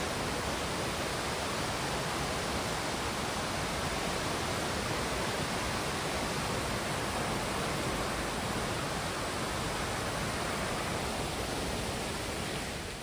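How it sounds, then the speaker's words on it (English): A small waterfall in a gorge on the River Nidd in Nidderdale roars with a steady, dense rush of falling water that holds constant and loud throughout, with no voices over it. "You can see a little waterfall just there, look."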